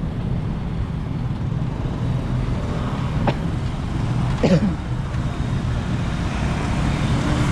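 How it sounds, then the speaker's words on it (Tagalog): A motorized tricycle passes on a road, a steady engine drone blending into continuous traffic noise, with no standout pass-by peak. "Wala may tricycle na dumaan o eh."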